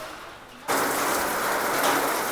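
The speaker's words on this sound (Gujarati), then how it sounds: "આપણે વરસાદ એકદમ થઈ ગયો જોરદાર ચાલુ" Heavy rain suddenly pours down in a farming village in Rajkot district, Gujarat, a dense steady roar of downpour that starts abruptly and stays loud and even, with no voices.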